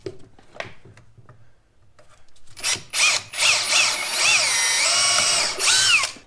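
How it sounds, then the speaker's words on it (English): A few faint clicks and handling noises, then a power drill whines up loudly in several close bursts, its pitch rising and falling as it bores holes while framing basement walls. "First thing I'm gonna do is just drill where I want these"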